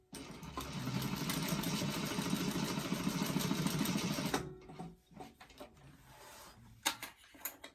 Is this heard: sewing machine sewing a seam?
yes